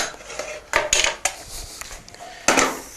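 Boiled carrots for Vichy-style carrots tipped from a strainer back into their cooking pot, giving several sharp metallic clanks and scrapes of utensil on pan, close and without talk.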